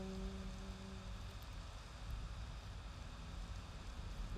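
Steady rain hiss in a video game with a low rumble of wind underneath, continuous and fairly soft, with faint tonal hum in the background.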